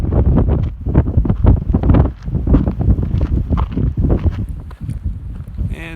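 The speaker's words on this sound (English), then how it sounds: "Pretty windy up here." Strong wind gusting on an exposed mountain ridge, buffeting the microphone in loud, irregular rumbling bursts throughout with no break.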